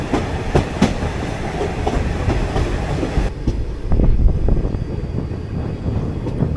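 Coimbatore–Mangalore Express train rake rolling past near the North station, a loud continuous rumble with rhythmic clickety-clack of wheels over rail joints, close and sustained.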